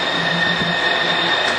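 A tour train at the Bronx Zoo rolls along with a steady mechanical rumble and faint tonal hum, close and continuous throughout, with no talk over it.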